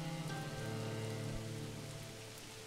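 Heavy rain pours steadily in the Manor Lords medieval city-builder game, a dense, continuous wash of drops drumming on surfaces with no voices over it.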